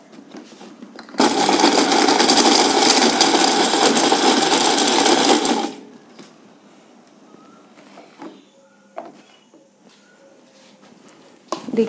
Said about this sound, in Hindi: अब इन्हें हम ग्राइंड करेंगे। तो चलिए ग्राइंड करते हैं।